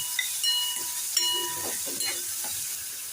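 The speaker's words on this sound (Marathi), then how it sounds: "छान परतून घेऊया।" Chopped onion sautéing in a pan with cumin and asafoetida for a spicy Maharashtrian clam masala, giving a steady close sizzle and hiss with a few light stirring scrapes throughout.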